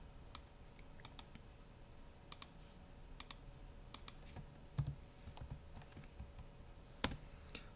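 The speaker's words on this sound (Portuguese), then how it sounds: "Então vou digitar a senha de superusuário." Keys on a computer keyboard clatter as a password is typed, sharp isolated clicks and short bursts spaced irregularly across a quiet room.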